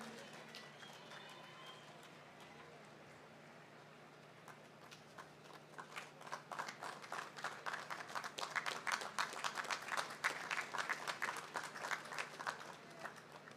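Ceremony audience applauding Medal of Honor awardees at a National Day observance in Dominica, clapping that starts sparse and soft then swells into brisk, fairly close applause from a modest crowd, over a low steady hum.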